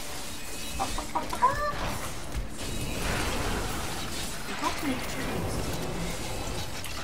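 Chicken clucks in a video game, a few short squawks early on amid game effects, with people talking over much of it.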